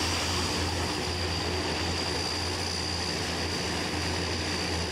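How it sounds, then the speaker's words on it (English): An AN-32 transport aircraft flies at night over an air force base, its propeller engines giving a steady, loud, continuous drone with a sustained whine and no voices. "the IAF's workhorse, the AN-32, will be flying in and out with some cargo"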